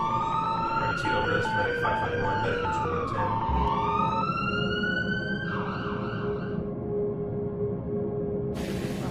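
A wailing emergency siren rises and falls continuously, loud and close, over steady traffic-like background noise.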